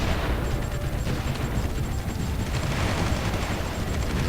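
Artillery and anti-air guns in Supreme Ruler 2020 produce a continuous dense roar of overlapping booms and gunfire, steady and loud throughout without pauses.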